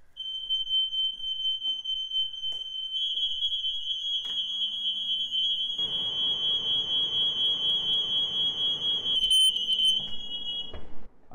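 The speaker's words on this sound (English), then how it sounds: "these smoke alarms in these houses are so flippin' useless. You can fart and they will go off." A loud, steady high-pitched electronic smoke alarm beep holds for several seconds in a home kitchen, with faint background clatter and rustling joining partway through.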